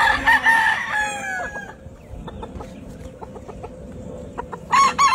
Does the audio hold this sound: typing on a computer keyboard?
no